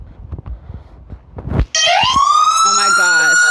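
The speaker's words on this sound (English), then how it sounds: "It can get really loud because of the sirens." After some muffled knocking and movement, a loud police siren suddenly blares up close, wailing and warbling steadily, in body camera footage.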